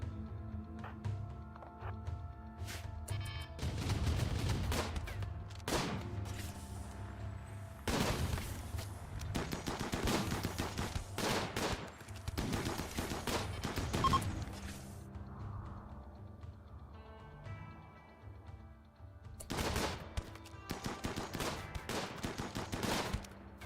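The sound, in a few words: turrets firing in the video game Rimworld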